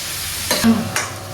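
Mutton curry frying in a pan is stirred with two quick scraping strokes over a soft steady sizzle, close and short, with no talk.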